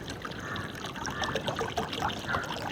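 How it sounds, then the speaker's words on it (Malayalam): Cold water poured into a bowl for jelly cake preparation in a village kitchen, a steady close trickling stream lasting throughout with light splashing. "നല്ല തണുത്ത വെള്ളം കുറച്ച് ഒഴിച്ച് കൊടുക്കാം"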